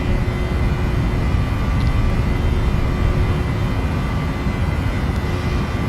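Jet engines of a PMDG 737-800 at takeoff power in the FSX flight simulator, a steady, loud, continuous roar with no pauses or talk.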